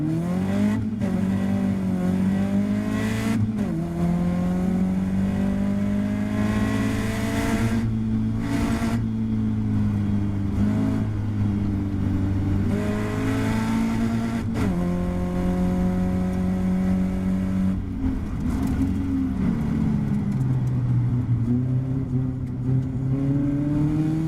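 Caterham Roadsport race cars racing on the Silverstone GP circuit, a close in-car engine drone rising and falling through gear changes and revving hard throughout, with other cars of the 32-car field around.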